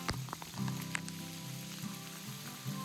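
Dense, steady pattering and crackle of hail striking surfaces all around in the backcountry, with a low hum and occasional sharper impacts throughout.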